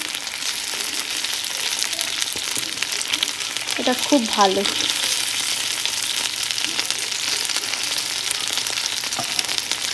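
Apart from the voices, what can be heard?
lentil fritters frying in an iron wok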